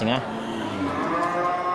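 Aceh cattle, cows and heifers, moo loudly at a cattle market, with one drawn-out, close call that fills the short moment.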